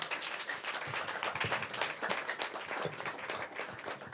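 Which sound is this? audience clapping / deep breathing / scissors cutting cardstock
audience clapping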